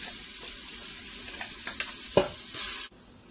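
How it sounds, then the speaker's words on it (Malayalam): Biryani masala sautéing in ghee inside a pressure cooker for Thalassery Malabar chicken biryani, a soft steady sizzle with a few scraping stir clicks and a brief louder burst near the end before it cuts off. "അതിനകത്തോട്ട് നമ്മുടെ ഈ മസാല ചേർത്ത് വഴറ്റിയെടുക്കാം എണ്ണ തെളിയുന്ന വരെ വഴറ്റിയെടുക്കാം"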